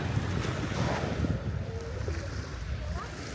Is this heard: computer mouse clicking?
no